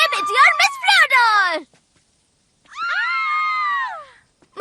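Frightened screams ring out in the dark during a haunted-house style game, two long high-pitched wailing cries separated by a short silence, loud and close.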